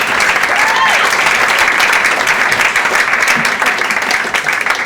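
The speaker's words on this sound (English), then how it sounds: "Can we just get one more round of applause for all the words that spoke today?" A wedding reception crowd gives a round of applause after the speeches, loud continuous clapping filling the room, with a faint voice briefly audible beneath it.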